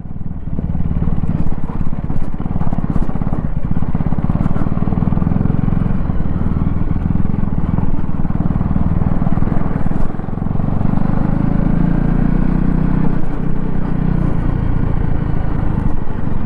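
A 2024 Husqvarna Vitpilen 250 motorcycle engine hums steadily at around 2000–3000 RPM while riding on the road, a loud continuous drone with wind rush and a voice talking over it.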